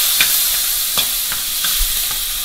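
Garlic and ginger frying in already-heated oil in a pan, with a steady high hiss and a few soft stirring scrapes, close and alone.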